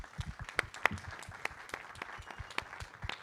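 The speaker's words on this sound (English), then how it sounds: "A big round of applause." Scattered audience clapping after a talk on women footballers, fairly quiet, with a few sharp, distinct claps standing out over a thin, uneven patter rather than a full ovation.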